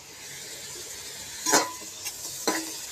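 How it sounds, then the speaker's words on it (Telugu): Whole spices, cinnamon, cloves and cardamom, fry in hot oil for chicken curry, giving a soft, faint sizzle broken by a few sharp stirring clinks and scrapes in the pan. "యాలక్కాయ వేసా ఇలా ఫ్రై చేసుకోవాలి"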